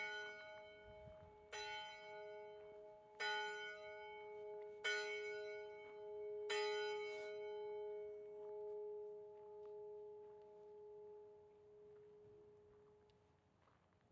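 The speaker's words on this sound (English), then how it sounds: "he rang the bell today" A church bell at Chapel by the Sea rings during a baptism service: five clear, evenly spaced strokes about a second and a half apart, each leaving a long shimmering hum that fades slowly into quiet.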